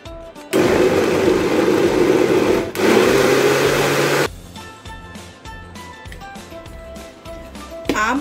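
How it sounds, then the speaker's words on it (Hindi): An electric kitchen mixer grinds mango pieces with sugar for aam papad in two loud, close bursts of whirring motor, briefly pausing between them, then cutting off to quieter music-like tones. "आम और शक्कर को हम डालकर मिक्सर में पीस लेंगे।"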